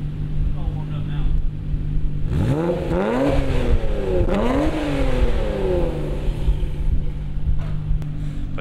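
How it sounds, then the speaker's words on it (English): Nissan GT-R turbocharged engine revving, a warm idle rising into two sharp throttle blips with climbing whine, close and loud over a steady background hum. "Hear those turbos, that sounds really good"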